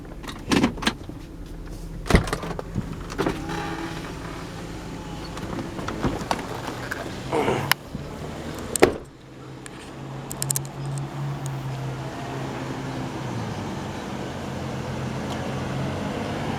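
A 2003 Chrysler Pacifica rescued from a scrapyard idles and creeps into a parking spot, with a low steady engine hum broken by sharp clicks and thumps, likely a door or window, and a brief loud knock midway.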